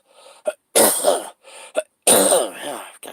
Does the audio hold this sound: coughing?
yes